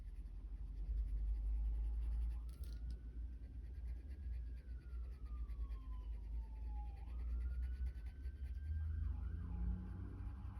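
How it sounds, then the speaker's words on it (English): A distant emergency vehicle siren wails with a faulty-sounding tone, its pitch sliding slowly up and down, faint beneath a low rumbling background and some close scratching. "Can you hear that emergency vehicle?"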